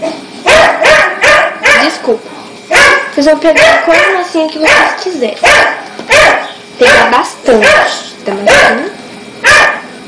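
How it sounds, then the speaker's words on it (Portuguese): Dog barking repeatedly in short bursts behind someone talking in Portuguese while she makes play-dough cupcakes at home; the barks are loud and close, coming in a steady run across the whole stretch. "Desculpa pelos latidos de cachorro"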